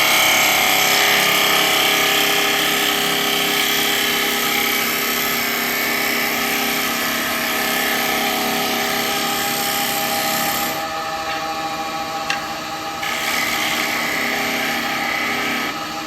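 A wood lathe turning a wet-wood cowboy hat, a loud continuous whirring drone with a scraping cutting hiss that drops in intensity partway through and then carries on.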